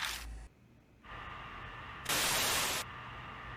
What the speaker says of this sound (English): Radio noise?